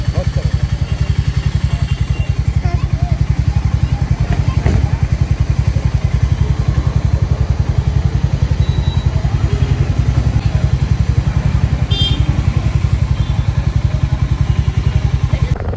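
A motorcycle engine running steadily close by on a rural trip, a loud continuous low pulsing throb with no letup, and voices talking faintly over it.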